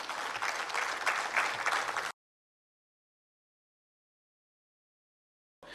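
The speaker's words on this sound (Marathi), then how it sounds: "एकदा जोरदार टाळ्या या सगळ्या मान्यवरांसाठी" An audience at a Loksatta event claps loudly and steadily for dignitaries on stage for about two seconds, then cuts to silence before clapping briefly resumes at the very end.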